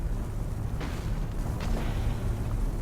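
Ork mega cannon firing in the space battle game Battlefleet Gothic: Armada, a couple of heavy booming blasts over a thick, loud low rumble of battle noise, with no talking.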